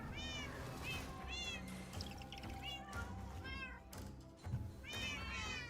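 Video game cats in Minecraft meow again and again in quick, rising high-pitched calls, repeating in clusters over a faint low background hum.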